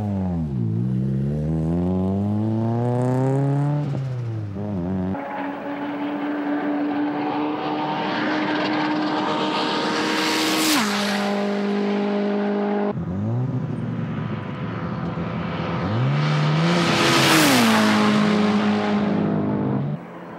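Tuned front-wheel-drive turbo car engine, running with coolant temperature maxed out and losing power partway, revving hard during a top-speed run, a loud, close, rising whine through the gears that drops sharply at each shift, with no voices.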